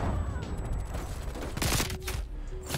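A MAC-10 submachine gun in Black Ops Cold War fires in rapid bursts that stay close and loud above in-game noise and end in a heavier crack.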